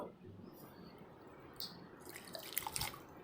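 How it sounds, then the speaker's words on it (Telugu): Water trickles and drips into a mixer jar, a faint pour building toward the end with small splashy bursts. "ఇప్పుడు నేను ఇప్పుడు కొన్ని వాటర్ వేసుకుంటున్నాను"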